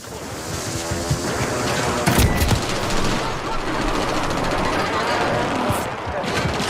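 Rapid video game gunfire crackles in dense bursts over a continuous loud mix of battle noise, with a heavier blast around the middle.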